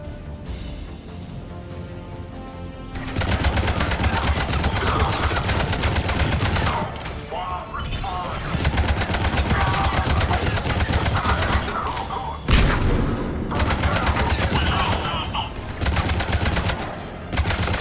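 Rapid turret gunfire in the Mass Effect 3 video game, dense automatic bursts rattling loudly for long stretches with brief pauses between volleys, over a low rumbling game backdrop.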